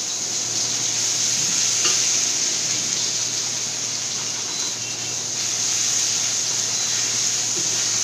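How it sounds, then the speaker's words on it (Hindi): Ginger garlic paste sizzles in already hot oil in a pan, a steady, bright, hissing crackle that stays loud and continuous with no talk over it. "ये तेल ऑलरेडी गर्म ही है, इसमें जिंजर और गार्लिक का पेस्ट है"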